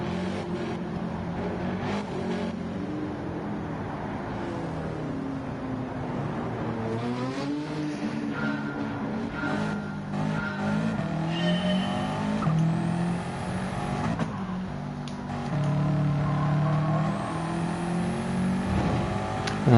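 Race car engines in the Gran Turismo 7 video game drone and rev steadily throughout, with shifting engine pitch, occasional tire squeal and passing cars, loud and continuous with no talk.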